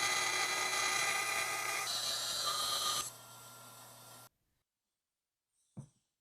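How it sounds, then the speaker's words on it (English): A bandsaw cuts wooden corbels traced from templates, a steady loud whining cut that shifts pitch partway, then drops to the idling motor before stopping, followed by a single thump in silence. "Then I cut them out on the bandsaw."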